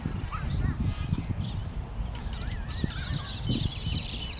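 Birds call and honk repeatedly in a noisy outdoor setting, goose-like cries overlapping each other amid rustling and movement nearby.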